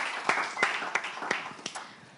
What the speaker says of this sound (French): M. Djossou, veuillez l'applaudir